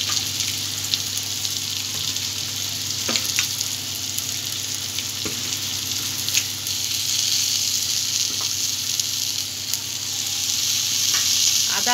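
Tomato and spices stirred in a hot frying pan, a continuous loud sizzle with occasional scraping knocks of a utensil against the pan throughout.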